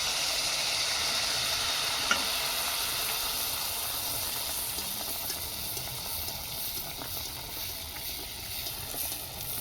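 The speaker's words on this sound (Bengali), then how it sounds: "আর একটা হবে ভেজে নিই" Palm fruit fritters fry in hot oil with a steady, dense sizzle and hiss that holds for the whole stretch at an even, fairly loud level, with a faint tap near the start.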